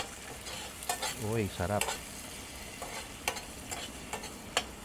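Chopped tomatoes are sautéed in a pan, with a low sizzle and several sharp scraping stirs of a utensil against the pan. A voice speaks briefly near the middle.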